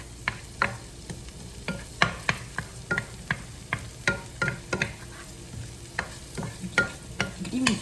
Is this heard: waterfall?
no